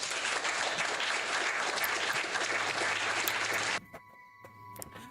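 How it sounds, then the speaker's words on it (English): Dense, loud applause from many hands that cuts off abruptly near the end. A faint tonal hum and a few scattered sounds remain after it stops. "I'm going to give you the applause there, good sir."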